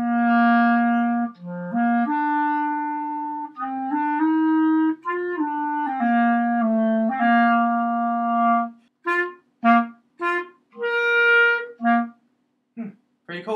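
A Jupiter clarinet is played solo, with a sustained melodic line of clear, reedy tones that gives way to short, separated staccato notes and brief pauses near the end.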